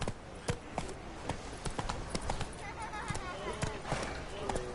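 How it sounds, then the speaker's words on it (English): In a video game, a horse's hooves clip-clop in irregular beats under game sounds and dialogue, with spoken voices heard over the steps. "Whoa there, Roach."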